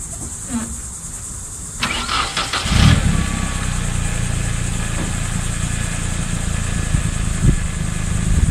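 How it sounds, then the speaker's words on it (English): 1990s Japanese car engine with new spark plugs cranks and catches after a few seconds, then settles into a steady, close, even idle. "It sounds like every Japanese car ever made in the 90s."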